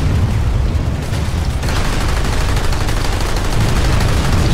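Dense, continuous gunfire in a shooter video game, loud and sustained throughout with overlapping shots and booms, no speech over it.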